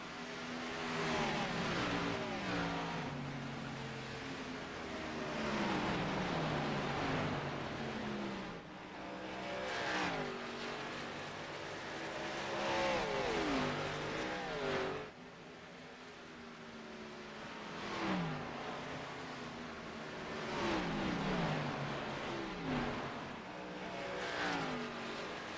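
Xfinity Series stock cars lap Nashville in a racing video game, their engines wailing and revving in overlapping waves. Pitches rise and fall through gear changes and cars passing by, with a steady, continuous roar throughout.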